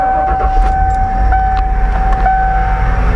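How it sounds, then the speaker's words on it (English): A 1994 Ford F150 engine idling loudly and close after starting, with a steady low rumble, a persistent whine and a light metallic jangle like keys. "Car starts up on the dime."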